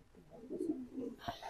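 A racing pigeon gives one faint, low coo at a race release stage, a brief soft phrase heard alone against quiet background noise, ending with a sharper click.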